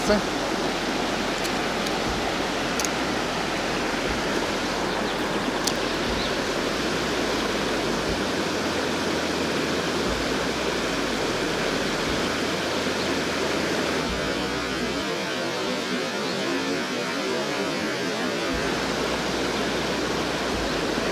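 Broadband rushing water of a fast Carpathian mountain river where trout are fished, loud and constant throughout, with no voices.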